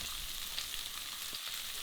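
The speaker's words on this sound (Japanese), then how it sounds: "表面を焼いていきます。" Rabbit meat sears in hot oil in a pan over medium-high heat, giving a steady, close sizzle and frying hiss that runs unbroken throughout, with no voices.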